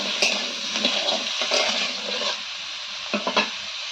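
Ivy gourd (kundri) pieces with potato are stirred in a frying pan, a steady broadband sizzle with a few sharp spatula scrapes and clicks near the start, middle and end, close and fairly loud with no voices.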